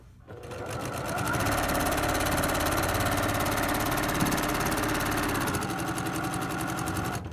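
A Brother PQ 1500 sewing machine runs steadily at moderate speed, stitching a quilt border with a loud, continuous mechanical whir and fast needle clatter that holds through the whole stretch.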